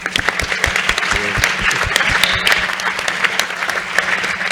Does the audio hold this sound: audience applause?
yes